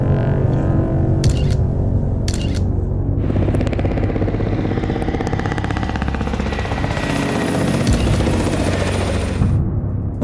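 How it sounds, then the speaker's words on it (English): Black helicopters fly very close to a house, and a loud, steady rotor roar fills the whole stretch, with a few sharp clicks near the start and no voices. "the infamous black helicopters appeared"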